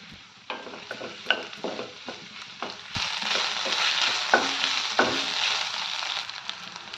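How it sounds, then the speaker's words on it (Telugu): Chopped onion, with green chilies, curry leaves and ginger-garlic paste, fries in a pan: a few sharp stirring taps, then a loud, broad sizzle that swells and holds with occasional utensil knocks. "ఉల్లిపాయ ముక్కలు బాగా వేగాక"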